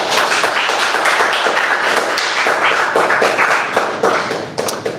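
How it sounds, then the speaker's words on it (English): An audience at a hackathon sponsor presentation breaks into a round of applause, a dense, steady wash of many hands clapping close by that carries for the full five seconds and tapers slightly at the end. "Let's give him a round of applause"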